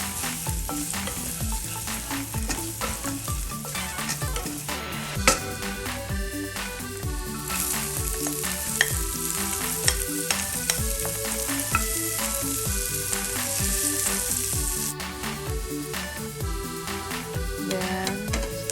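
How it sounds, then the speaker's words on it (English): Onion and garlic sauteing in a frying pan, a steady close sizzle with frequent clinks and scrapes of stirring over a constant background hum, no voices. "in another pan, we saute onion and garlic."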